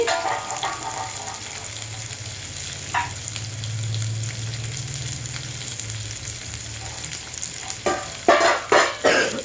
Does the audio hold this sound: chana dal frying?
yes